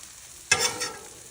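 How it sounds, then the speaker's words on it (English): Buttered sourdough bread hits a hot Blackstone griddle butter side down, setting off a sudden sizzle that bursts in and then settles to a softer crackle, close and short with no talk. "So buttered sourdough bread, butter side down first."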